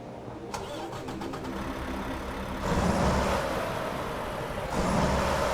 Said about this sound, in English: Actually, let's start it up from the outside.